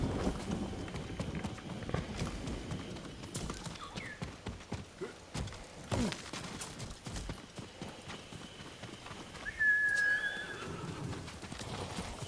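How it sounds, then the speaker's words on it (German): Hooves clip-clop on the ground at a loose rhythm, and a horse whinnies partway through, fairly close, over soft ambient background, in the video game Ghost of Tsushima. "das ist doch unser Pferd hier"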